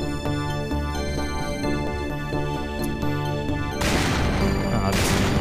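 Gunfire in the Guncaster mod for Doom, played in Heretic, sounds over steady in-game music, with a burst of heavy blasts and crashing impacts toward the end.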